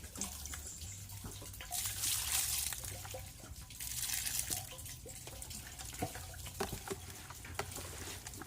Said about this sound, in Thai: เราก็ซาวให้เกลือเขาละลายเนาะ น้ำสักนิด